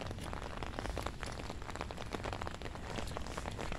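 Steady rain falls outdoors during a dog walk, a dense continuous patter of drops hitting surfaces, fairly faint and uniform throughout with no voices.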